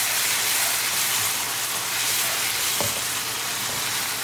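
Tomato mixture for a mushroom chicken dish sizzles loudly and evenly in a pan while being stirred, with a brief scrape of the spoon partway through and no voices.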